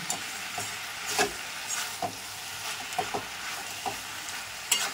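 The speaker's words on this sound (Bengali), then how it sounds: "এবার যতক্ষণ নাই মাছের তেলটা ভাজা ভাজা হচ্ছে" Catla fish oil frying in a pan with potato and brinjal, a soft continuous sizzle broken by irregular spoon-scraping stirs every second or so, no talk.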